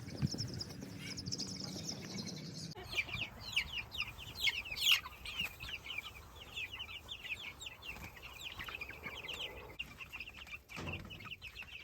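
Meat chickens cluck and chirp in a busy flock while being moved into a Suscovich chicken tractor, a steady chorus of overlapping calls close by, with some handling and rustling noise.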